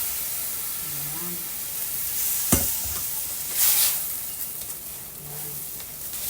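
Leftover rice sizzles and hisses in a hot pan while being sautéed and stirred for arroz caldo, with sharp scraping clicks from the stirring and a spoken voice over it.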